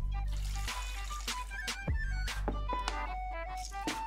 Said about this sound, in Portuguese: Um pouco de água, vou colocar um pouco mais.